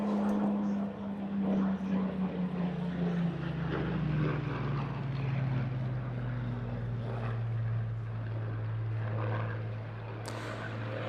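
A Spitfire Mark 1 propeller fighter, the 54 Squadron aircraft at an airshow, roars past in a loud high-speed pass, its engine drone sliding steadily downward in pitch as it goes by, with crowd noise underneath.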